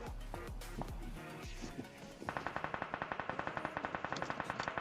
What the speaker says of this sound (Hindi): अब यहाँ पर मेरे को बहुत गंदा फायर दे रहे थे दोनों के दोनों बंदे मिलकर।